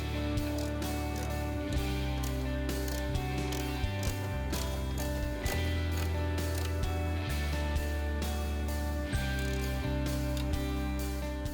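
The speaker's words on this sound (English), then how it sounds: "Finish tightening the nuts using the wrench." Wrench turning and tightening nuts while fitting a replacement scraper on a Greenworks 22-inch snow thrower, giving steady mechanical ratcheting clicks and creaks close by with no talking.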